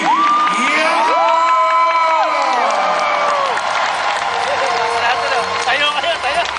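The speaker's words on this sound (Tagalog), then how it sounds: "At milyon-milyon palakpak para kay Mr. Andy!" A lively crowd cheers, whoops and applauds for Mr. Andy at a testimonial event, the noise loud and sustained throughout, with shouted voices and a rising whistle-like cry riding on top.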